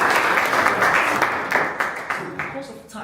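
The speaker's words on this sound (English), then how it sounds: "Clap hands for it." A high school class clapping hands for a student, a dense burst of applause at even strength that thins toward the end, with murmuring voices underneath.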